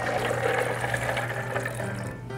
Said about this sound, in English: I'm going to add to that 3 cups of water.